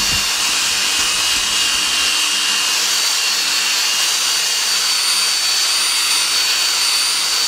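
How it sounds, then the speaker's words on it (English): A power buffer works polishing compound over painted plastic, a loud, steady high-pitched whirring hiss that holds constant for the whole clip, close up with no talking. "When you're buffing, you don't need too much compound, just do it lightly and then go back and do it again until you're happy with the finish."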